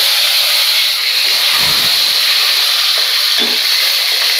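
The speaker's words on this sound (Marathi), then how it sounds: "आता हा कढीपत्ता टाकून घ्यायचा." Curry leaves dropped into hot oil already crackling with mustard seeds and cumin for a tempering give a steady, loud hissing sizzle throughout, with brief spluttering bursts near the pan.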